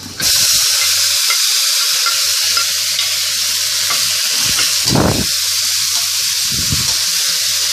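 Bean sprouts stir-fried with garlic in a hot pan sizzle loudly and steadily, with a few scraping stirs of the spatula over the constant frying hiss.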